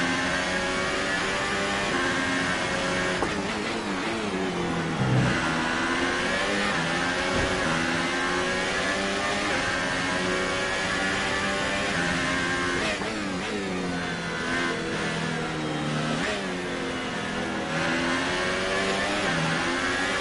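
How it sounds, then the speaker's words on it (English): Formula 1 race car engine in F1 2018 at the Monaco Grand Prix, a loud continuous high-pitched whine that shifts up and down with gear changes and throttle, steady throughout with no talk. "Well, I am driving in a race car"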